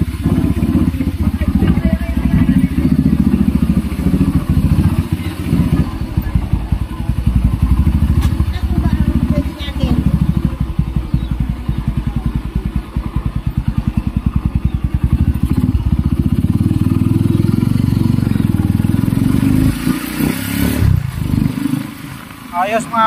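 A 19-year-old Kawasaki Barako motorcycle, its stock carburetor restored and tuned, runs steadily at close range with a loud continuous engine rumble and some clatter, while someone talks over it.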